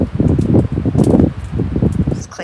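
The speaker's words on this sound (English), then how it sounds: "Just cleaning off my grill." Someone scrubs a campfire grill outdoors on a windy autumn lakeside campsite, making a series of rhythmic, close scraping and brushing strokes that stop briefly near the end.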